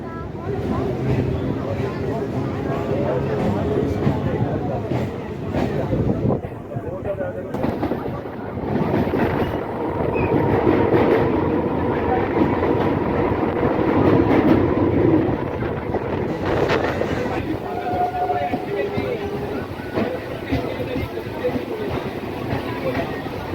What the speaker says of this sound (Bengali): লক্ষ্মীকান্তপুর থেকে নামখানা লোকাল নটা পনেরো সময় দুই নম্বর প্ল্যাটফর্ম থেকে ছেড়ে দিল